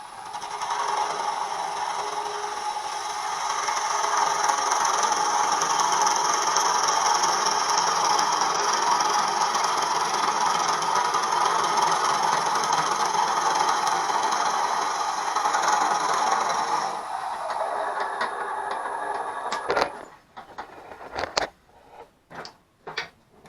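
A wood lathe spinning at about 500 RPM while a thin parting tool is worked against the turning piece: a steady broad rubbing whir for about seventeen seconds, then the cut stops and a few scattered knocks and clicks follow.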